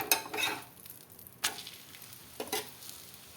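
A rajma paratha fries in oil on a pan, giving a steady close sizzle broken by three brief, sharper bursts as it is pressed and moved.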